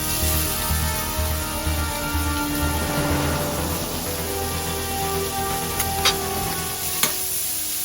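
Vegetables sauté in butter in a hot pan, giving a steady, close sizzle with a few small pops and crackles and no talking.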